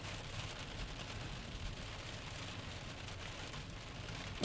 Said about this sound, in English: Raining hard in Muhammad.